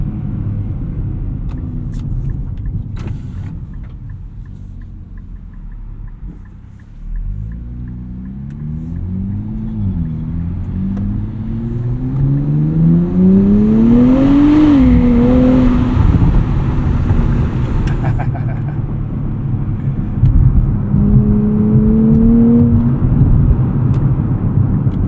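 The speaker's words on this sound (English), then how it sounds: "We get some subtle burbles from the exhaust in sport mode." A 2024 Nissan Z Nismo in sport mode rumbles steadily from close by, its exhaust burbling and its engine note climbing and falling as it revs, with a brief second rise near the end.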